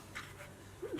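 A dog pants indoors in a few quick, faint breaths, ending with a brief soft whimper, close but quiet with no talking.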